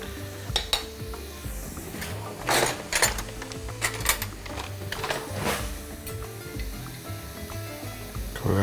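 Ingredients for a pork and potato stew fry in a pan with Artfood jalapeño pepper, sizzling close by as a spoon stirs and scrapes, with repeated clinks and knocks against the pan.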